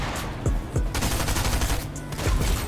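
An SMG fires in Fortnite in several rapid bursts, loud and close, with sharp repeated shots through the whole short stretch.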